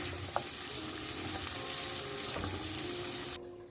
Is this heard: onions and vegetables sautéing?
yes